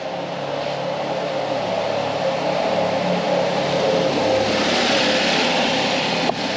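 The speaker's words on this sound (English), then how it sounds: "There's a car coming." A car approaches steadily on a road near construction, its engine and tyre noise a continuous broadband rumble that swells gradually and stays close.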